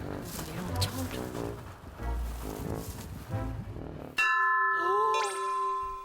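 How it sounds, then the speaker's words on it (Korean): A bell hung at a rural church gate in place of a doorbell is struck once, ringing out clearly and fading after a stretch of muffled outdoor noise and faint voices. "종을 쳐주세요."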